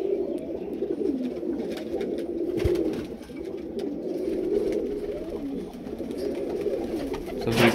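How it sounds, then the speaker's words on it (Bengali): A male atta pigeon coos steadily close at hand, low rolling burbles repeating with short dips, over faint background rustle. "এই যে আটা পায়রা দেখুন, এটা নর পায়রা।"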